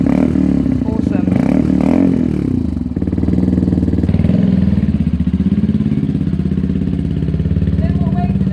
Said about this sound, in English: Definitely advise anyone with a Benelli TNT to get this exhaust.